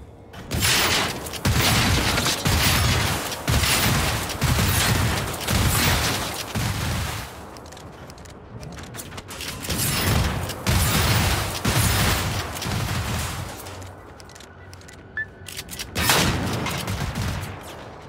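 Shotgun blasts in the video game Generation Zero, a run of loud booming shots in quick bursts with short pauses, then a few more after a quieter stretch, no talk over them.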